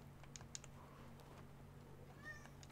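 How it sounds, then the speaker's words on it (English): A cat meows faintly a few times in a quiet room, short thin calls over low background hum, with soft keyboard-like clicks nearby. "Kitty, why are you meowing?"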